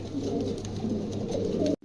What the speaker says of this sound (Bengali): এই চার পিস কবুতর আছে